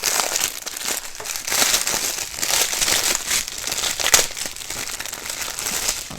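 Close, continuous crinkling of diamond painting kit plastic packaging being handled and pulled open, with a few sharper crackles and no talking.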